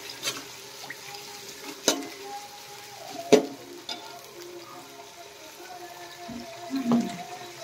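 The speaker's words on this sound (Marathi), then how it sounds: "कांदा सोनेरी कलर येईपर्यंत भाजायचा, तेलामध्ये तळायचा, पाहू शकता तुम्ही। नंतर यामध्ये बारीक चिरलेला टोमॅटो टाकायचा," Onions and finely chopped tomato fry in oil in a pan for biryani, a soft, steady sizzle with scattered stirring clatters and occasional sharper knocks.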